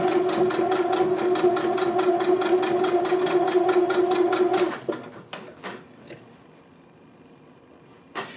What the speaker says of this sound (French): Oui, c'est de la couture au point droit.